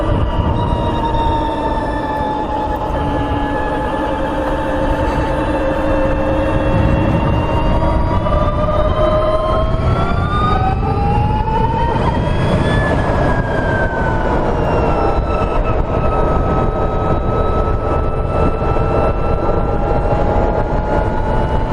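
A Harley-Davidson LiveWire electric motorcycle rides with a loud, continuous electric whine whose pitch climbs and falls as it speeds up and slows, over steady road and wind rumble. There is no voice.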